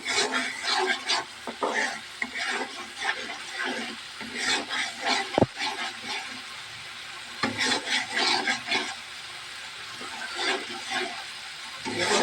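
Spice masala for chicken curry with potatoes being stirred and fried in a pan, a steady scraping and rubbing of a spoon with soft sizzling, close and moderately loud, in irregular strokes throughout with no talking.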